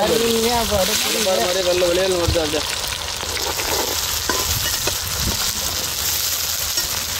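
Shallots crackle and sizzle in hot oil for a Malabar prawn dish, a steady close-up frying hiss, with a voice talking briefly at the start.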